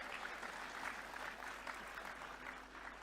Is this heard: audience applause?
yes